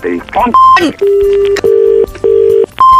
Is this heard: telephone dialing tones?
yes